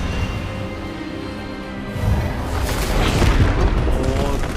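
Expelliarmus spell impact during a duel with a professor in Hogwarts Legacy: a heavy, booming burst that swells after a quieter stretch and rumbles on amid crackling magical effects.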